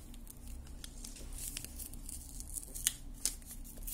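A paper packet of stationery being opened and torn, giving soft crinkles and rustles with a few sharper rips near the end, close and quiet, with no talk.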